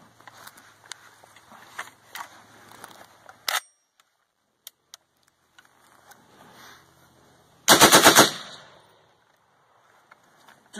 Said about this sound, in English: So first I will demonstrate with the Scar Heavy and then I'll shoot the Scar Light.